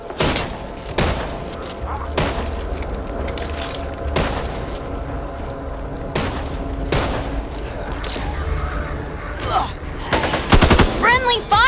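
Bursts of gunfire and booming shots in the video game Back 4 Blood, loud sharp cracks spaced through a busy mix of rumbling action, with a few shouted voices near the end.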